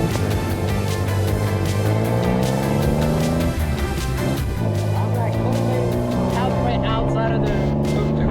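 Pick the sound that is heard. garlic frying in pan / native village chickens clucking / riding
riding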